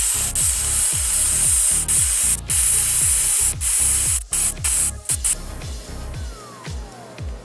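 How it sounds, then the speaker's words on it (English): Tire deflator venting air from a tire, bringing it down from 35 to 17 PSI: a loud, steady close-up hiss, broken by short clicks and gaps, that cuts off near the end. "I want to test to see how fast their tire deflator will get it down from 35 PSI all the way"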